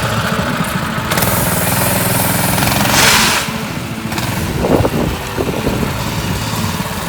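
A small drift trike engine runs close by with a loud, rough buzzing drone, briefly revving louder and then easing back to a steady running note.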